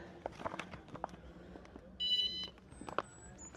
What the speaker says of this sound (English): First beeps.